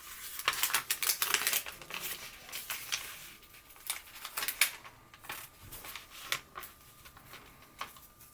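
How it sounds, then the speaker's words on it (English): Masking tape peeled off a sprayed art piece made with a Crayola Air Marker sprayer: close crinkly tearing and crackling strips, several short bursts with pauses, moderately quiet with no talking. "and then I'll take the tape off"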